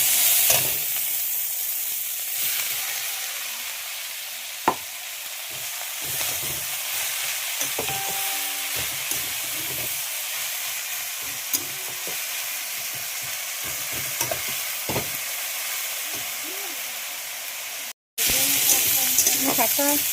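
Red amaranth greens frying with dried fish give a steady close sizzle and hiss over the whole stretch, with occasional clicks of stirring and a short break near the end.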